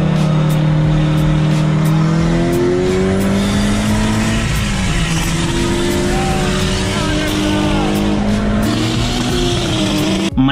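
Mitsubishi Evo racing a Toyota Supra: loud, close engines roar and rev steadily with rising and falling pitch, tires squealing throughout, alone without talk.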